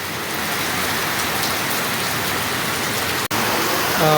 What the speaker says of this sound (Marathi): बघू शकता मित्रांनो जोरदार पावसाला सुरुवात आहे